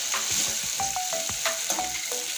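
Potatoes for a rupchanda fish kalia fry in hot oil with a steady bright sizzle and a few stirring scrapes, close and continuous, no voices.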